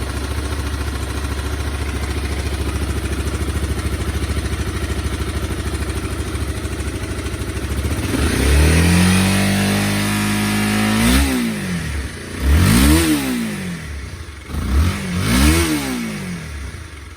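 A Honda CBR250R motorcycle, restarted after sitting for five years, idles steadily up close, then its single engine revs repeatedly in sharp rising and falling bursts.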